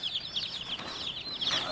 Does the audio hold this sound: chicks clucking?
yes